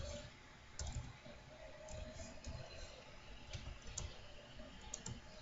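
Light, quick keystrokes on a computer keyboard while entering a router configuration command, a faint scattered clicking over steady room noise with no talking.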